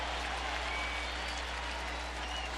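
Baseball stadium crowd at a Reds vs. Cardinals game in St. Louis applauding and cheering steadily in the ninth inning, a dense, continuous roar of clapping with no break.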